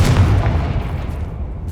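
Confringo blasting spell explosion in Hogwarts Legacy, a single loud, deep booming burst that rumbles and fades over under two seconds, heard alone.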